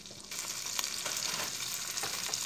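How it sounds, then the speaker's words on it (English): Trout fillets frying in butter in a pan give a steady, close, broadband sizzle with crackles and small pops throughout, with no talking over it. "lay it into the butter, make sure it doesn't jump up and splash it"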